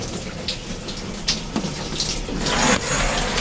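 A shower runs on a catamaran while someone stands under it, a steady broadband hiss of spray with a few louder splashes and bumps, growing fuller and louder toward the end.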